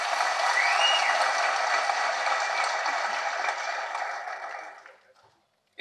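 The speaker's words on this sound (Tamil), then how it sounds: "தயவு செஞ்சு ஒரு கைத்தட்டல் கொடுங்க அவருக்கு" A large crowd at a FEFSI May Day celebration claps for a speaker, dense sustained applause that holds for several seconds, then thins and fades to silence.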